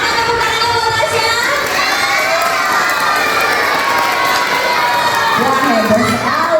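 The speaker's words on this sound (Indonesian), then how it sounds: "Mana tepuk tangannya buat Rasya?" Children shouting and cheering as a crowd, loud and continuous, celebrating Rasya at a school competition for reading Indonesia's Proclamation text during the 80th Independence Day festivities.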